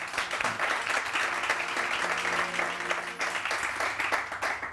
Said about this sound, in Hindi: बीनिश के लिए बहुत सारी तालियां जी।